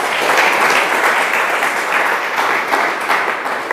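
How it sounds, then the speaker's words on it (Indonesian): A church congregation applauds during a sermon, a dense, sustained burst of many hands clapping together for several seconds, loud and close, with no speech over it. "Tepuk tangan dulu buat Tuhan."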